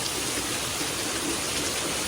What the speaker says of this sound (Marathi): जोरा पाऊस आली